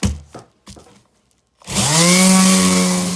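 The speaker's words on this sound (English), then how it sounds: "Going to put her on the sander and get back after it." Electric sander with 80 grit working bookshelf wood: a few brief knocks and taps, then the sander starts up and runs loud and steady with a whirring drone.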